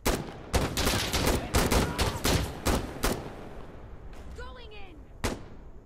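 Rapid bursts of close, sharp gunfire in the video game Insurgency: Sandstorm, shots cracking in quick succession, then a pause with a whistling sweep before one last shot.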